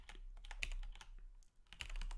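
Typing on a computer keyboard, a quiet run of irregular close key clicks with a short pause partway through, no talking.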